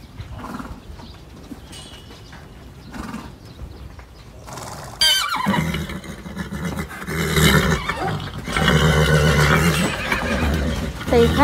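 A stubborn 500-jin donkey with overgrown, curled, crusted hooves brays loudly during hoof trimming, harsh drawn-out cries after a quieter start with shuffling, close and strained.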